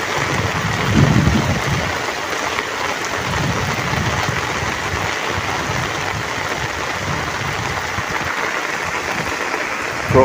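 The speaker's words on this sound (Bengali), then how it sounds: "বৃষ্টি আর বৃষ্টি" Heavy rain pours steadily in a waterlogged rural field during a storm with lightning, a dense unbroken hiss that stays loud and close for the whole stretch, with no voices.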